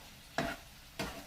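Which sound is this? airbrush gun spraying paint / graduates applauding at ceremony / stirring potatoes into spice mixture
stirring potatoes into spice mixture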